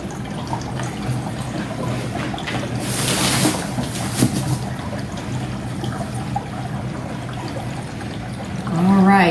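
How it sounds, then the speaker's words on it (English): Dry ice bubbling and fizzing in liquid, an uneven gurgling with a louder surge partway through, while a person talks over it. "So now we're really bubbling and making some vapor."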